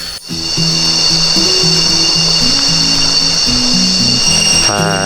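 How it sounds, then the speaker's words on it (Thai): A loud, steady rush of falling water at Khlong Phlu waterfall on Koh Chang, Thailand, fills the whole clip, broad and constant, with a brief rumble at the very start. "เป็นน้ำตกขึ้นชื่อของเกาะช้างนะ"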